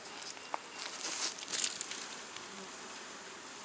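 Honey bees buzz at an open top bar hive being split. A faint, steady hum continues throughout, with a few soft ticks and light handling noises.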